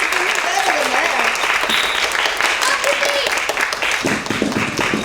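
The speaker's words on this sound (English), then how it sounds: "If you believe, clap your hands." A theatre audience at a Peter/Wendy stage performance claps steadily, a dense sustained round of applause with a few voices and cheers mixed in throughout.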